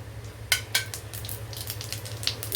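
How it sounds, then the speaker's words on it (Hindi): Whole spices such as cumin, green cardamom, cinnamon and cloves frying in hot oil for a chana dal tadka, a steady close sizzle with a few sharp crackles and utensil clinks near the start, no talking. "अच्छी तरह इसे भून लेते हैं, खुशबू आने तक भूनना है।"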